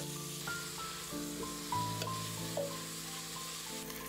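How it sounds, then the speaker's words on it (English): Sliced onions frying in oil with cumin and black pepper for a mutton curry, a steady low sizzle running throughout with faint stirring and a few soft clinks, no voices. "add the sliced onions. Fry them until they are partially caramelized"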